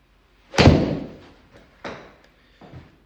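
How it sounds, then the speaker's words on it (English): A golf wedge strikes a ball in a full swing into a home simulator screen: one sharp, loud thwack with a short decaying thud, then two fainter knocks afterward in an otherwise quiet room. "Give this a full swing with the wedge here."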